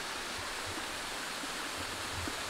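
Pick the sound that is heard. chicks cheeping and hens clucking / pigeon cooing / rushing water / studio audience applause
rushing water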